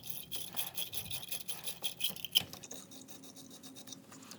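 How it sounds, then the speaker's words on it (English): A battery terminal cleaning brush scrubs inside a car battery clamp, making quiet, rapid, rhythmic scratching strokes heard close up with small bursts of grinding. "put it directly into this clamp and turn it so that it cleans the clamp"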